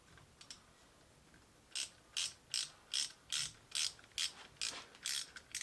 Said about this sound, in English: take the old plug out